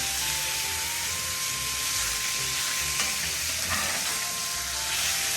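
Butter sizzles steadily in a hot pan next to salmon fillets searing for a garlic honey glaze, a dense continuous frying hiss with faint clatter from the stovetop throughout.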